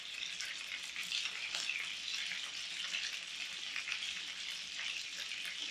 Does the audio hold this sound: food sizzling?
yes